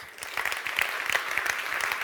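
An award ceremony crowd at the Grand Prix du Brand Content 2021 applauds the winners in a brief, steady wash of many overlapping claps.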